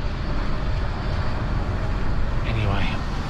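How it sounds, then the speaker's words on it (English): A steady, broad engine roar fills the clip, loud and continuous, like aircraft engines heard from close by, while an Airbus A380 ambulift is towed through Greater London. "I'm sure you can hear the engines"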